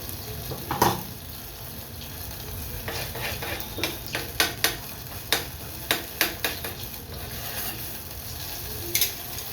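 Cumin seeds sizzle in melted butter in a pot over a low flame, a soft continuous crackle broken by a run of sharp stirring clinks and scrapes, close and fairly quiet.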